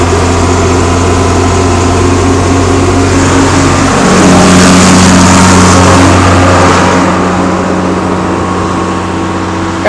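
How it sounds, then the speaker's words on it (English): Tractor engine drives a PTO manure pump, idling steadily then revving up loudly around the midpoint and holding a higher throttle, a constant close mechanical drone throughout with no talk. "Engage the PTO. Open up the load valve. Crank up the throttle."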